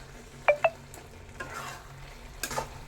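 Ginger paste fries in a hot pan, giving a low sizzle with two quick metallic clinks near the start and a few soft stirring scrapes later, close by and without speech.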